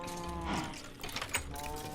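Cows moo in the Minecraft Project Ozone 2 modpack: a couple of drawn-out, low lowing calls that overlap across the whole stretch, fairly close and steady, with no talking.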